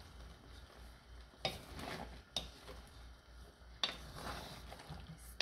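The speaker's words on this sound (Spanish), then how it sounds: "Y vamos a mezclar todo." Chicken breast and red pepper fajita vegetables are stirred in a pan, a quiet sizzle marked by three or four distinct scraping strokes with pauses between them.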